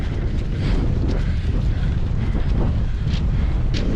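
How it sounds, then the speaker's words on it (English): Wind buffets an open hillside in the Peak District as a steady, loud, rumbling roar with constant low gusting. No voices are heard. "A bit more blustery up here as well"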